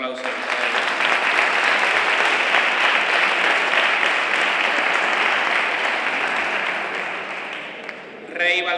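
A crowd at a Three Kings coronation event in El Trobal, Spain bursts into loud, sustained applause that fills the space before slowly thinning out, with a voice briefly heard near the end.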